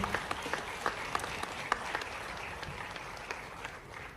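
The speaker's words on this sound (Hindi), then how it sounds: "एक बार पूरे मंच के लिए जोरदार तालियां बजा दें" Audience applause at an awards summit in New Delhi, a steady patter of many hands clapping at moderate distance, fairly quiet and even throughout with a few sharper claps standing out.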